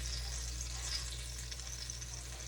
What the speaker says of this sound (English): all you have to do is cook that biscuit, and it doesn't take long in hot grease